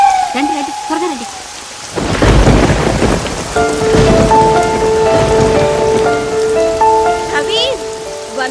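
Heavy rain pours steadily with rumbling thunder during a film scene, the downpour loud and continuous from about two seconds on, with tonal background music running underneath and a brief voice at the start.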